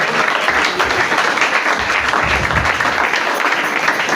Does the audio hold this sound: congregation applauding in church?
yes